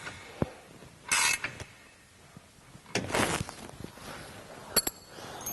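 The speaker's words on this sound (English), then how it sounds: "Using your 13mm wrench, go ahead and retighten this bolt." A 13mm wrench retightens a skid plate bolt on a Jeep, with a few short ratcheting clicks and metallic creaks in bursts between quiet pauses.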